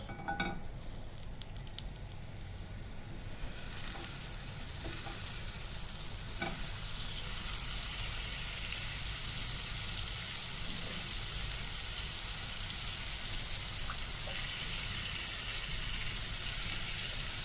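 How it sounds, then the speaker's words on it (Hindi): Chicken tikka fries on low heat in a pan without an oven, cooking in its own released juices, giving a steady close sizzle with a few stirring and clinking pan sounds near the start. "ये अपना पानी छोड़ेगा, उसी के अंदर ये पक जाएगा बगैर ओवन के।"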